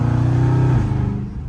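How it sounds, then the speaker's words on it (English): A catless Dodge Scat Pack's exhaust on a downshift while cutting up on back roads: a loud, close, deep engine roar that holds steady, then drops in pitch and fades slightly toward the end. "that downshift so nasty"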